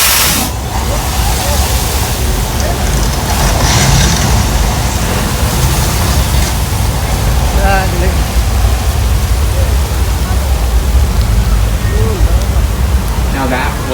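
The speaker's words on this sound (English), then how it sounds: "Now that was flash flood." Flash flood water effect at Universal Studios Hollywood, fed from water tanks: a loud, steady roar of rushing water holding constant throughout, with faint voices and tonal cries surfacing briefly over it.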